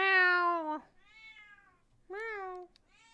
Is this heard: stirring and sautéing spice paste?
no